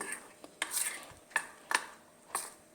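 Moong dal vada batter being mixed by hand or spoon in a bowl, giving a handful of short, close scraping and clinking strokes in an uneven rhythm, with no talk.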